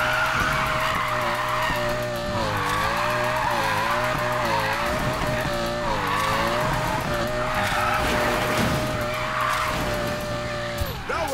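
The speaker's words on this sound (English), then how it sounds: "They'll write stories about this drift." A Whipsnake car drifts in a racing video game, its tires squealing loudly and continuously in a wavering, rising and falling whine over the steady roar of the engine.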